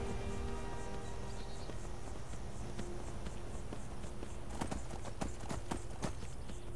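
Rhythmic clip-clop of horse hooves trotting at a steady pace in the video game Skyrim, over ambient background sound, with sharper hoofbeats toward the end.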